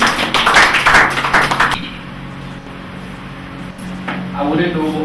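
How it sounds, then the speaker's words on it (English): A crowd at a tenth anniversary event claps in a short burst of dense applause that fades after about two seconds, then quiet room tone and a brief return of sound near the end. "Let's give a round of applause."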